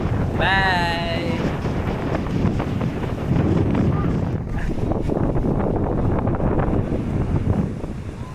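Wind blowing at a beach in Dingalan, Aurora, a constant rushing buffet across the microphone with broadband roar, loud and unbroken, with a short whistling tone early on.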